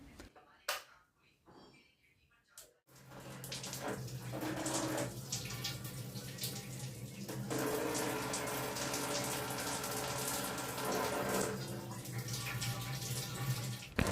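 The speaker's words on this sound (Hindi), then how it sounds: "तो ये देखिएगा प्री कार्बन अपना वॉश आउट हो रहा है।" Water rushing through the pre-carbon filter of an RO water purifier during a home filter change, a steady splashing flow starting after a few seconds of clunks and handling noise, with some talk over it.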